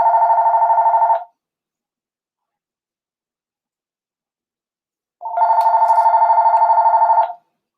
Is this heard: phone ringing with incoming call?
yes